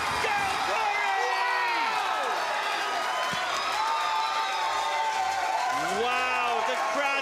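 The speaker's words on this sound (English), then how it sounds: "Wow, the crowd is going nuts." A crowd at an NHRL robot combat event cheers and claps throughout, with excited commentators talking loudly over the noise.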